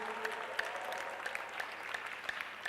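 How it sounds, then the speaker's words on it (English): Scattered applause comes from the audience at a School of Entrepreneurship launch. The clapping is fairly faint and thin, with a few sharper individual claps over a low room hum. "Give a round of applause."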